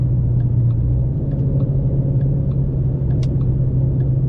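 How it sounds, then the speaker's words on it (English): An automatic car's engine running in third gear after a downshift, a steady low rumble and hum heard from inside the cabin, continuous with no talking. "My foot is not on the brake, but I'm shifting down to third gear."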